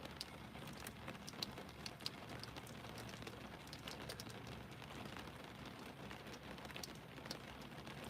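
Steady rain patters on surfaces during a storm, a continuous moderate wash of drops with no voices, as a bird calls faintly now and then in the background.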